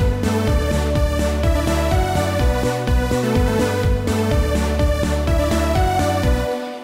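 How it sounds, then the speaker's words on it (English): Super saw synth lead recreating a song melody in Pro Tools, a loud, bright, sustained stack of detuned saw tones playing rhythmic chords over a pulsing low end, steady throughout with no talk. "when the synth comes in, this synth sound, let me play you this."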